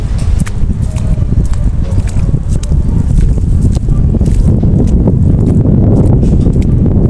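Strong wind buffeting the microphone in a continuous low roar throughout, with faint scattered clicks and knocks underneath.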